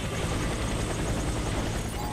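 In the Warface shooter game a helicopter's rotor chops steadily close by, a dense continuous roar that fills the whole stretch.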